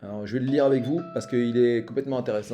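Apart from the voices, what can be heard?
phone ringing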